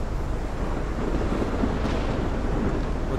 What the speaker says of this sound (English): Some mysterious storm.